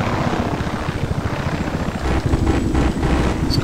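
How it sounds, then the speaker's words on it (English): A Little Bird helicopter in the Desert Combat game flies with a loud, close, fast rotor chop and engine whine, the rapid beating steady throughout with no talk over it. "This is like the fastest helicopter in the game,"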